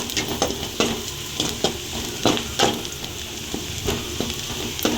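Tomatoes are added to garlic and onions frying in a pan for a drumstick curry, producing a loud, continuous sizzle broken by repeated clattering stirs.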